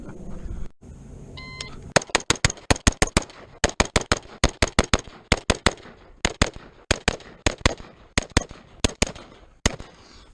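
Rapid rifle shots at an outdoor shooting range with a PSA Freedom upper on a Noveske lower, a long run of sharp, close cracks fired in quick strings with short pauses, after a few electronic beeps.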